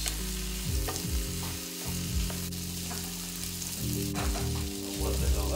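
Frozen peas are stirred into a sizzling frying pan mixture for a shepherd's pie, a steady close fry with scraping stir strokes and a low hum underneath.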